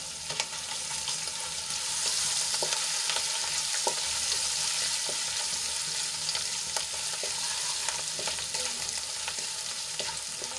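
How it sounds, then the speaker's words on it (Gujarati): Crushed ginger, green chillies and sesame seeds sautéing in oil in a pan, a continuous close sizzle with scattered crackles and spatula scrapes. "હવે બધું સરસ રીતે સાંતળી લઈશું."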